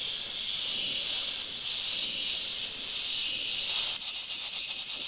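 Airbrush spraying transparent black paint onto a 3D dinosaur figure, a steady close airy hiss running continuously with slight surges in pressure and no talking.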